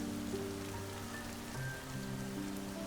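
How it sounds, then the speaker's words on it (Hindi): Steady rain pattering on a surface, a soft continuous hiss with faint tonal hum in the background, quiet overall. "उस तेज बारिश में हम दोनों भीग रहे थे।"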